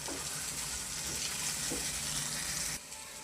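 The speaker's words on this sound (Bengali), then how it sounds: "কাঁচামরিচ, রসুন, পেঁয়াজ দিয়ে একটু ভেজে নিব।" Green chili, garlic and onion fry in a pan with a faint, continuous sizzle and light crackle throughout, which quiets slightly near the end.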